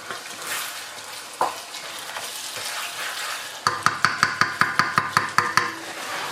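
King prawns sizzle in a hot pan with sweet and spicy sauce. A loud, steady frying hiss is followed by a quick series of about ten sharp utensil taps and scrapes against the pan.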